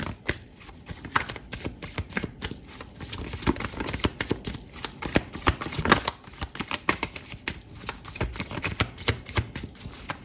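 A deck of tarot cards riffled and shuffled close by, a steady run of quick papery flicks and slaps with no voices.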